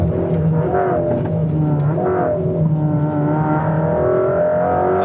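A car on a traction control test drive with a Bosch vehicle dynamics system accelerates under throttle, a loud close engine note climbing and dipping in pitch over several seconds, with no talking.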